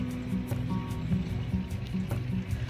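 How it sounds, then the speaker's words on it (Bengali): Spring water runs out of the rock at Nehru Kund in a snowy Himalayan valley, a continuous close gurgle and splash with a soft pulsing rhythm that sits over a steady rushing bed. "মানে পাথর থেকে জলটা বেরিয়েছে আর কি"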